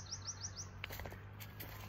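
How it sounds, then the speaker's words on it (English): Small birds chirp in trees outdoors under a clear sunny sky: a quick run of four rising tweets, then scattered higher calls, moderately near over a steady low hum. "Those beautiful heavenly birds chirping,"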